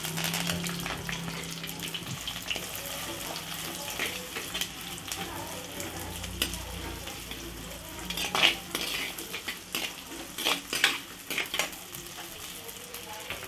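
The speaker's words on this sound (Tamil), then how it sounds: "ஆனியன் வதங்கட்டும்." Onions fry in oil with cloves, cinnamon and cardamom for a pepper chicken roast, giving a constant close sizzle broken by scraping stirs and sharp clinks of a utensil against the pan.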